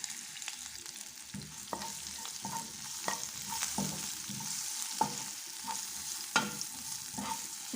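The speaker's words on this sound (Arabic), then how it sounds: "من بعد ما سخنات الزيت غادي نضيف لها هاد المكونات وغادي نحركهم باش ندمجوا مع بعضهم مزيان" Pizza topping vegetables, including green pepper, squid and surimi, stir-fried in hot oil: a steady close sizzle with repeated scraping strokes of a spoon against the pan at an irregular rhythm, no voices.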